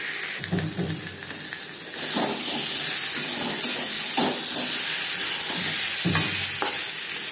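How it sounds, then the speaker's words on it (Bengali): Potatoes fry in a pan with salt and turmeric, a steady close sizzle that swells after a couple of seconds, punctuated by periodic stirring scrapes. "লবণ হলুদ দিয়ে 4-5 মিনিট আলু ভেজে নেব।"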